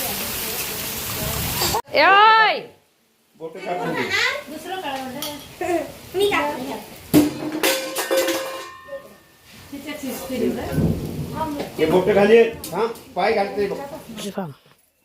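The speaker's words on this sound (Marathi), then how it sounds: "तुफान कसला पाऊस पडतोय बघा" Heavy rain pours down outside a home in Maharashtra, flooding water into the house, as a loud, steady hiss for the first couple of seconds, then people talk over fainter splashing and clattering.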